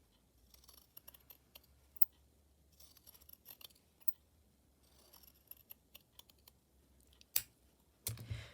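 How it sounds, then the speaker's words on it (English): Scissors cut around fabric with soft, intermittent snips and rustles, close and quiet, ending in a couple of louder clicks. "You just cut round now."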